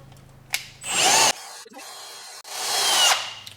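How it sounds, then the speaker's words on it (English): A power drill bores into the end of a solid metal bar, running in two loud sustained whining bursts, close up, with a short pause between them. "we're going to bore a hole here in the end of this"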